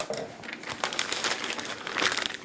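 A plastic pastry bag crinkles and crackles as its tip is cut off, a close, continuous rustle for a couple of seconds.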